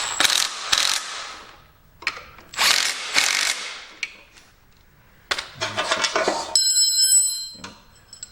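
A hand ratchet tightens engine bolts on a 1971 140 after a head gasket job, giving several bursts of quick clicking pawl strokes with pauses between them. It ends in a brief metallic ringing tone.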